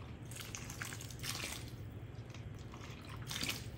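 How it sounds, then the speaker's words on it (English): Water poured into a tamale masa mixture, a soft continuous trickle and splash with wet squelching, faint and steady throughout. "And we're gonna add the water as well."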